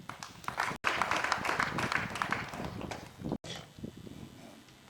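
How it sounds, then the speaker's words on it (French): An audience applauds the military governor of Ituri at an official gathering, a burst of clapping that swells, cuts out briefly twice and then thins to scattered claps near the end. "Excellence, vous méritez nos applaudissements."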